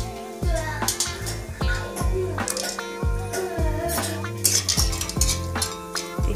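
Whole spices, starting with whole cardamom, roast in three to four spoons of oil in a pan for a homemade masala, giving a steady close sizzle broken by repeated sharp clinks and scrapes of a spoon stirring against the pan.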